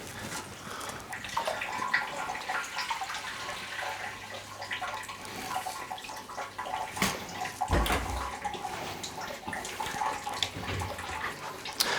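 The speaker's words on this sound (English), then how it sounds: "the water's just started trickling down the overflow, so I'll start filling up the sump" Water trickles and splashes steadily down the overflow of a Red Sea Reefer G2 525 reef aquarium into the sump below, a continuous close-up pour with no talking.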